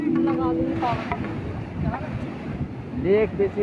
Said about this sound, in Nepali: एकदम हावा चलिरह